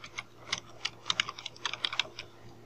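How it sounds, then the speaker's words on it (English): Quiet, quick keystrokes tap out an irregular burst of typing on a computer keyboard, close by with no voices. "I am just typing Christmas here."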